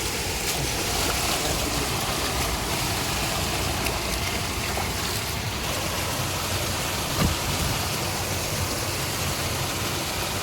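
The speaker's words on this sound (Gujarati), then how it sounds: "ગતિથી આવે છે પાણી" Heavy rain in a Gujarat village, with rainwater rushing fast past a broken road into a pond, makes a steady, dense hiss that runs without a break and holds a roughly even level throughout.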